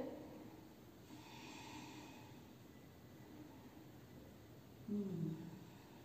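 Slow, quiet breathing held through a yoga pose, soft and even, with one heavier breath or snort-like exhale near the end.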